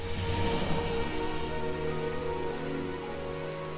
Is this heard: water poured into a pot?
no